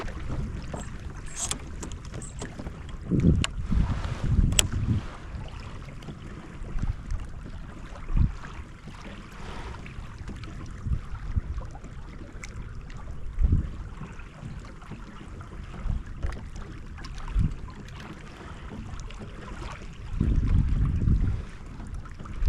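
Kayak gliding through water while trolling crankbaits for bass, soft paddle splashes and water swishes in irregular bursts with light wind noise, no talking.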